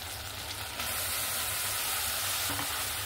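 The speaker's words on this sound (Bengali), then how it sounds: "এবার আমি আলু আর সেদ্ধ করে রাখা মোচা দিয়ে দেব" Boiled banana flower and potatoes are stirred into spice paste frying in oil, making a loud, continuous sizzle with scraping stir strokes, close by.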